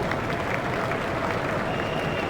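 Crowd applause from a stadium audience in EA Sports Cricket 07, an Ashes Test match: steady, dense clapping and crowd noise throughout, loud and continuous without a break.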